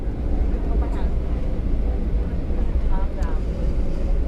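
Passenger jet rolling down the runway, a loud steady engine rumble and roar heard from inside the cabin, constant throughout with faint murmuring voices underneath.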